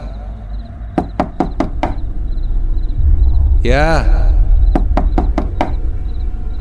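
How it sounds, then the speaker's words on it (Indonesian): Knocking on a bedroom door in a spoken horror story, two loud bursts of four to five sharp raps separated by a swooping effect, with a brief voice calling out. "tiba-tiba ada yang mengetuk pintu kamar."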